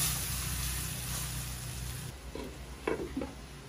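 Marinated pork belly sizzling in a pan for a pork menudo, with a steady loud frying hiss that drops away midway, followed by a few short clinks and scrapes of a utensil against the cookware.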